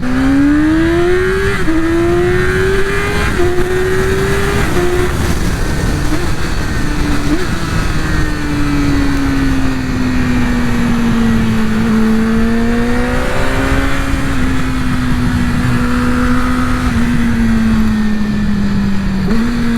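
A motorcycle engine revs up and down repeatedly while accelerating, its pitch rising and falling in long sweeps, loud and continuous with no voices.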